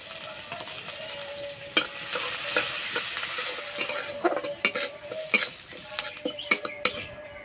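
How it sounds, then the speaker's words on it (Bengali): Whole cumin, sliced onion and green chili fry in white oil in a kadai with a steady sizzle, while a metal spatula stirs and clanks against the pan in frequent, uneven strokes close by. "তেলে দেবো গোটা জিরে কোচানো পেঁয়াজ কোচানো কাঁচা লঙ্কা"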